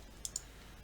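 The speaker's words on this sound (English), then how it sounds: "What am I clicking on?" Two quick, faint mouse clicks close together while playing a computer game, with nothing else over a low, quiet background.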